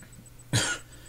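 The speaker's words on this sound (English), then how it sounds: "sorry for the coughing" A single sharp cough bursts out about halfway through, loud and close, from someone commenting while playing a Resident Evil game, with quiet near-silence before and after.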